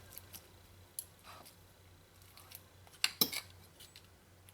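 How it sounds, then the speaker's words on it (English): A knife and fork scrape and click against a plate while opening up roasted baigan (eggplant), a few sparse metallic taps and scrapes, close and quiet, with sharper clinks near the end. "you take your knife and a fork and you open it out"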